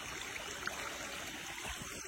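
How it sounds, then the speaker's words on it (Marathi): Water flows steadily in a stream, a soft continuous rushing and gurgling, fairly quiet and unbroken. "आता इकडनं मस्त वाहतं पाणी आहे"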